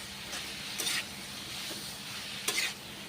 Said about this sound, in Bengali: কষে নিচ্ছি কুমড়িগুলোকে এবারে মশলার সঙ্গে